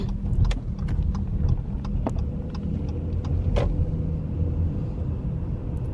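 A car drives through a residential neighbourhood, a steady low engine and road rumble heard from inside, with scattered small clicks and rattles over the top.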